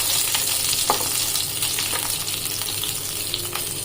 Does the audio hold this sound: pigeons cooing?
no